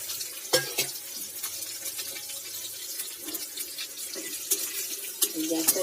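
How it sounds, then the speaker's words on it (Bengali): Bay leaves, dried red chillies and five-spice seeds dropped into hot oil in a kadai, giving a soft crackling sizzle with scattered clinks and stirring, fairly quiet and close. "এই যে কড়ার মধ্যে তেল গরম হয়ে গেছে, এবার ফোড়নে দিয়ে দেবো"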